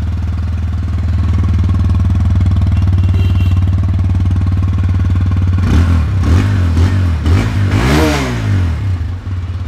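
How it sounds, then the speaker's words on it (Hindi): An old TVS Apache RTR 160 2V motorcycle idles with a loud, steady, thumping single-cylinder exhaust note close by, then is revved in several quick throttle blips that rise and fall before settling back. "उसके पहले दोनों का एग्जॉस्ट नोट सुना देते। इसका एग्जॉस्ट नोट सुनिए, ओल्ड वाला"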